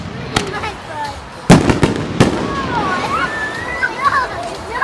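Reloadable consumer firework shells burst outdoors in a small backyard display, several sharp cracking bangs at irregular intervals, with children's voices and people talking throughout.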